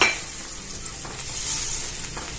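Fenugreek leaves stirred and sautéed in a pan, giving a continuous soft sizzle with faint scraping strokes, close by and with no talk.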